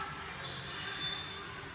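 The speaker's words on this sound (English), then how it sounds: "the official blows his whistle on the other side here" A referee's whistle at an indoor professional soccer match gives one short, thin shrill blast, faint and distant over arena crowd noise.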